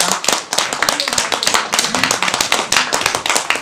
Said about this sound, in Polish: poproszę o wielki gromki brawa.